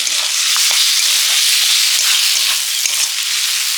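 Chilli, turmeric and ginger fry in hot oil in a pan, giving a loud, dense, steady sizzle close by. Faint scraping stirs run through it, and no one speaks.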